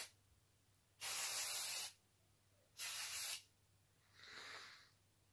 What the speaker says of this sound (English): And then I'm going to give it a bit of hairspray.